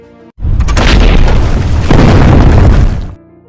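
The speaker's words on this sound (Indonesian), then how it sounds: "Pertempuran dibuka dengan tembakan senapan anti-tank dari tentara Uni Soviet dan tidak lama dibalas oleh tank tentara Jerman." Tank and anti-tank rifle fire in a battle between Soviet and German forces: one loud, sustained booming blast roars for about three seconds, with no voices.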